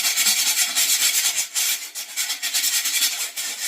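Someone hand sands with 180 grit sandpaper wrapped around a finger, smoothing a small cut on a bathroom piece with rapid, close, continuous back-and-forth rasping strokes, with a slight break midway.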